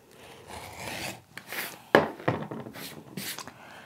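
Quilt fabric is trimmed with a cutter in a series of quiet, short scraping and rasping strokes, each separated by brief pauses.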